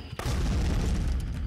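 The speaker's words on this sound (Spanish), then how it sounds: "¡Granada!" A grenade explodes in Contraband Police, a sudden loud close boom that rolls into a sustained low rumble for over a second.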